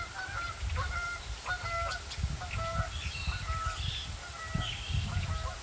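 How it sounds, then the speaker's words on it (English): Geese honk repeatedly on a cool, windy fall day in Michigan as the flock takes off and flies overhead, their calls coming in clustered bursts over a rumble of wind. "Boy, those geese are getting loud."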